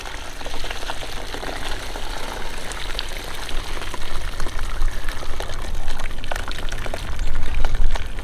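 Homemade chicken bone broth is poured from a pot into a bowl, giving a continuous close splashing, trickling stream of liquid that swells near the end. There are no voices.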